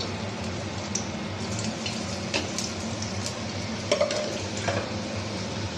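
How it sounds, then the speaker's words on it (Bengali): Panch phoron spices sizzle in hot oil in a kadai for a hog plum chutney. A loud, continuous frying hiss is scattered with small crackles and pops, with no talking. "কড়াইয়ে তেলটা দিয়ে দিয়েছি, এবার একটু পাঁচফোড়ন দিয়ে দেবো"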